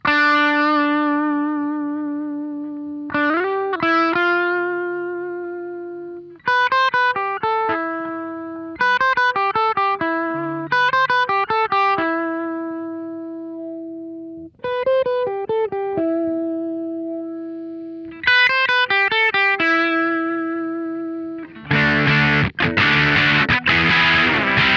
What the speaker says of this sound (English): let's just go through some cocked wah sounds with the fuzz